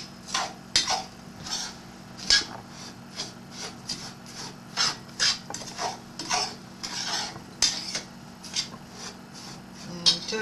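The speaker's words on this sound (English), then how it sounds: "And mix it up." Plum dumpling ingredients stirred together with oil in a bowl, a series of repeated scraping and clinking strokes of a utensil against the bowl at an irregular rhythm, close and fairly loud over a faint hum.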